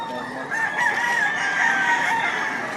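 A nine-month-old fighting rooster crows loudly and close by, one long drawn-out call, at a gamecock sale in Lipa, Batangas.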